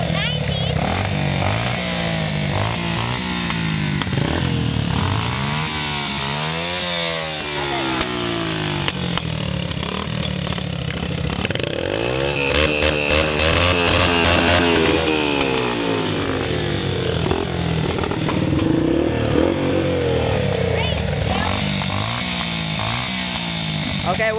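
A slow, oil-burning dirt bike engine runs close by, its revs rising and falling in repeated sweeping pitches throughout.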